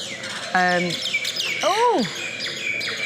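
Birds sing at a temple beside the Mekong, giving clear, close chirps and sweeping whistled phrases over a soft background murmur.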